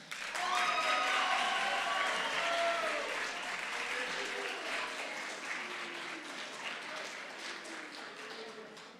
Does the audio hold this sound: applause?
yes